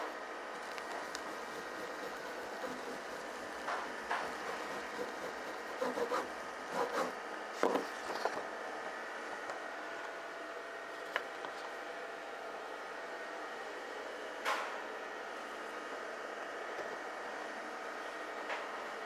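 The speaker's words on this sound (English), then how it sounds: "I think it's the motor that runs his tailgate, I guess. It sounds like it really needs some maintenance badly." A worn motor driving a vehicle tailgate grinds and rubs in a steady, rough drone for nearly twenty seconds, with scattered scraping bursts partway through; no one speaks.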